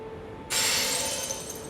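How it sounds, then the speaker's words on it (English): A rainbow stone breaking after a fall in Elden Ring: a single sudden bright glassy shatter that rings and fades into a sparkling, shimmering tail over a low game ambience. "If you hear it shatter, like this"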